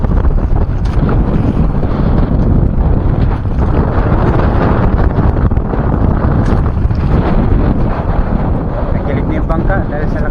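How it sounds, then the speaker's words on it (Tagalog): Strong wind roaring across the open sea on a small fishing boat, a loud, constant buffeting rush over the microphone with voices partly mixed into the noise. "Lakas ang hangin, grabe."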